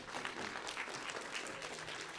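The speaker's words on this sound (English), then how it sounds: "Give it a round of applause." A room of attendees at a self-determination conference session breaks into brief, steady applause, a uniform patter of many hands clapping at moderate distance.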